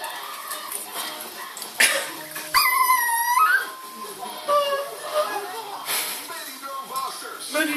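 A small pet dog whimpers and cries in high, wavering whines, mixed with a voice talking over it at close range.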